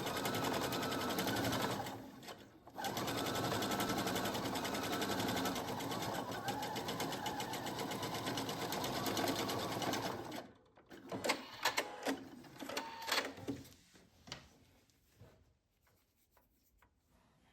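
A home sewing machine runs steadily while stitching a puffed sleeve, a continuous rapid mechanical chatter for about ten seconds, then stops and gives way to scattered handling clicks and rustles of fabric.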